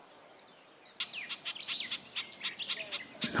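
Birdsong on a Carpathian hillside near a barn: a busy run of high chirps and tweets starting after a quiet second, repeating in quick bursts at moderate distance, with no bees clearly standing out.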